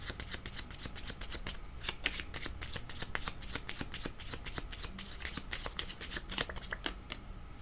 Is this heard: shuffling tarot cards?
yes